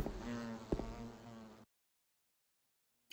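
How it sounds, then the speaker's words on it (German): A fly buzzes in Silent Hill 2, a faint, steady drone with a sharp knock partway through. It stops abruptly and silence follows. "Ein Riesenbrummer, Fliegengeräusch war hier."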